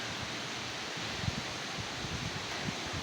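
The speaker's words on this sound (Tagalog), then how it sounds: "Sobrang lakas ng hangin guys." Steady broadband wind roar rushing past the microphone, with low buffeting gusts and rustling throughout, fairly loud and continuous.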